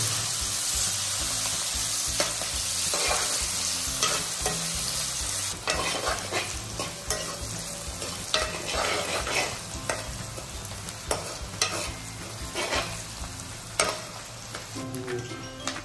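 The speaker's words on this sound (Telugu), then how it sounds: "ఇది బాగా డీప్ ఫ్రై చేసుకోవాలి, కొంచెం బ్రౌన్ కలర్ వచ్చేదాకా." Chicken deep-frying in hot oil in a pan in a bachelor room, a steady close sizzle broken by repeated scraping clicks and clatters as it is stirred.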